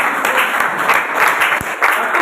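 Continuous hand clapping from a group, loud and close, with an uneven rhythm and a faint steady tone underneath.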